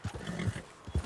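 A horse in the Red Dead Redemption 2 video game whinnies amid thudding hoof clip-clops, fairly faint and brief.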